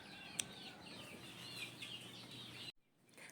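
Young cockerels in a multipurpose pen cluck and chatter softly and continuously at a distance, with a brief sharp sound and faint wing rustling, ending in a short quiet gap.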